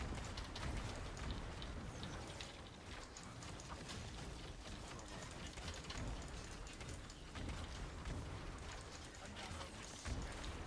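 A rain ability attack in a video game makes a dense, continuous patter of hard impacts like heavy rain, with scattered crackling hits and a low rumble, and a player talks faintly over it.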